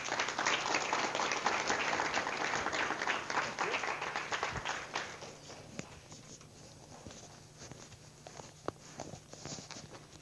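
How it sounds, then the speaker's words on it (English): A large audience applauds steadily, a dense wash of clapping that gradually thins and fades toward the end. "If you'll help me in welcoming, giving a big round of applause to Dr. Tom Grissom."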